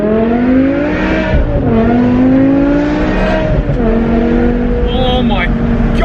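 A BMW E63 M6 with its V10 engine revving hard from inside the car, loud rising and falling gear pulls in repeated sweeps, with excited voices talking over the engine.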